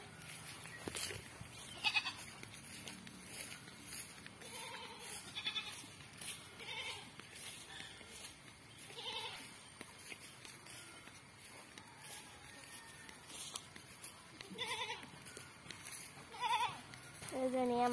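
Goats in their pen at home bleat repeatedly, with short calls scattered throughout and some close to the listener. A person talks intermittently between the bleats, with light shuffling and movement noise underneath.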